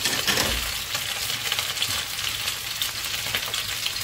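Potatoes frying in a pan, a continuous hissing sizzle with occasional stirring scrapes, close and fairly loud, no voices.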